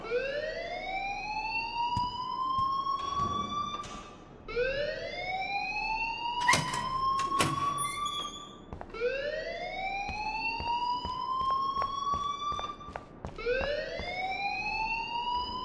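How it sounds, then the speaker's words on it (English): A fire alarm wails in the video game Life is Strange, a loud electronic siren sweeping upward in repeated rising cycles with sharp clicks between them, no voices. "please turn off that alarm since that's your job"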